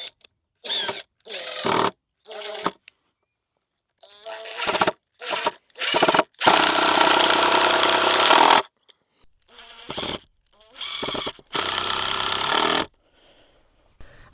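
A power drill drives screws into a wooden raised bed in a garden, with several loud whirring bursts of varying length separated by silent gaps.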